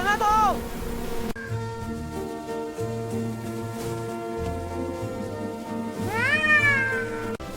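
A cartoon cat meows loudly twice, drawn-out and wavering, once at the start and once near the end, with music playing underneath.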